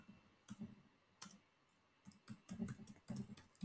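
Typing on a computer keyboard while entering terminal commands, with quiet, close, irregular bursts of key clicks separated by brief pauses.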